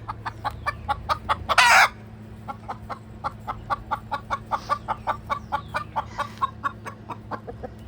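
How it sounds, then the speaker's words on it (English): Chickens in the yard cluck in a steady rhythmic series of close, regular pulses, broken early by one loud, brief crow-like squawk. "chicken hangout"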